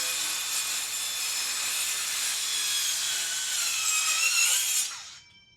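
A Dewalt 20V Atomic 4-1/2 inch circular saw cuts through wood in a home basement project, giving a loud, steady whining cut that runs for about five seconds and then winds down quickly to quiet.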